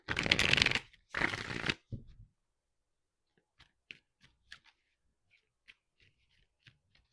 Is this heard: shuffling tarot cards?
yes